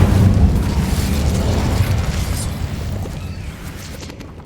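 An Incendio fire spell cast in Hogwarts Legacy on Xbox Series X, a dense whooshing fiery burst with a low rumble that slowly fades over a few seconds, heard alone.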